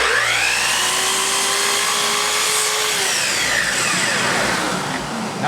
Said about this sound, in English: now I'm going to swing the saw to the right and make a right hand miter